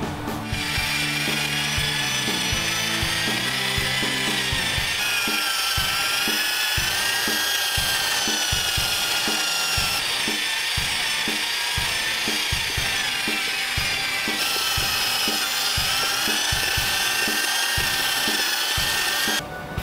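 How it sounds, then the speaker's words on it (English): A handheld power mixer churns two-part epoxy resin, part A and part B, for resin flooring, with a loud, steady motor whine and rhythmic scraping pulses throughout, close-up and without speech. "The part A and the part B need to be well mixed together."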